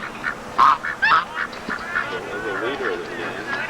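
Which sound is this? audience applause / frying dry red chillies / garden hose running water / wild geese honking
wild geese honking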